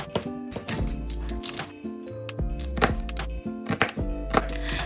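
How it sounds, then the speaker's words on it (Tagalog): Garlic cloves and half a white onion being chopped on a board, a close run of quick, uneven knife thuds and taps with short pauses, alone without talk. "magtadtad na tayo ng 6 pieces of garlic cloves at kalahati ng"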